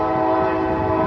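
A nearby train sounds a long, loud, sustained horn that holds steady throughout, with a low rumble of the rail cars underneath.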